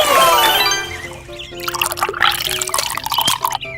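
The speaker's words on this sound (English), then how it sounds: "Submerge hollow watermelon into muddy water" A hollowed-out watermelon is pushed down into muddy water at a miniature fishing setup, giving a gurgling, bubbling pour followed by close trickles and small drips.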